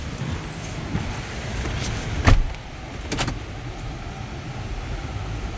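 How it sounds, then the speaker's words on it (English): A Jaguar XF on a test drive in 109-degree heat, with a steady low cabin rumble, a brief clunk and rattle in the middle and another softer knock shortly after, no talk. "It's about to take it on a little test drive."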